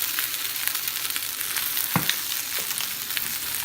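Salmon fillet seasoned with garlic powder searing in a frying pan, a steady bright sizzle with a brief louder clack near the middle.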